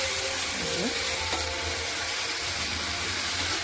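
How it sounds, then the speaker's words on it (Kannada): Basella greens fry in a pan with a steady broadband sizzle that holds evenly throughout, close and moderately loud, with a brief stirring scrape partway through. "ಸೊಪ್ಪು ಬಾಡೋವರೆಗೂ ಫ್ರೈ ಮಾಡಿ."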